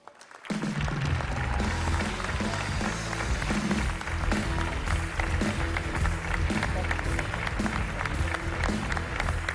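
Applause at an evening sports award ceremony for a hero of sport honour, a large crowd clapping loudly and steadily, a dense continuous roar with music or voices mixed beneath.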